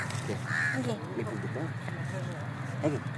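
Crows cawing outdoors, a few harsh caws scattered through the stretch, fairly near, mixed with other bird chatter and light background noise.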